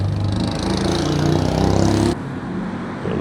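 A Toyota JZX car rolls into an underground car meet in Osaka, its engine droning loud and close with a steady rumble that drops in level partway through as it passes.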